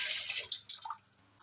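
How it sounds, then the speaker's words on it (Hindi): Hot water splashes and trickles over the soaking burner parts of a Glen gas stove, a faint, brief pour that fades to near silence after about a second. "इतना गर्म पानी हम डालेंगे।"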